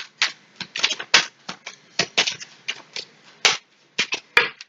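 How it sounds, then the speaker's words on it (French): Five tarot cards drawn from a deck, a string of sharp, close card snaps and slaps in an uneven rhythm, with short quiet gaps between them. "on va aller prendre 5 cartes"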